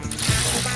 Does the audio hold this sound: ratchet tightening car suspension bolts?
yes